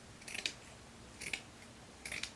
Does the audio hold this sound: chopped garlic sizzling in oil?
no